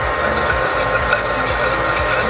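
A spoon scrapes and stirs coffee syrup ingredients in a saucepan, giving close, rhythmic scraping strokes that repeat about every half second with faint clinks between them.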